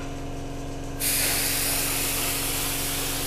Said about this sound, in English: spray the entire thing, because obviously you're coming in from the other side now